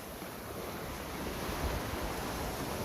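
Sea waves wash onto a beach as a steady, broad roar of surf, rising slightly midway, with wind buffeting the microphone and no voices.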